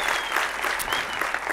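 An audience at a talk on setting personal boundaries applauds, a dense steady patter of many hands clapping together, fairly soft and diffuse with no voices over it.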